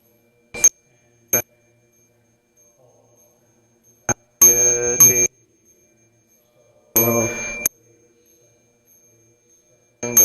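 A bell rung during a Sunday Buddhist temple service: two sustained, resonant strikes that ring out and fade, with a few short sharp knocks beforehand and quiet room pauses between, no talking.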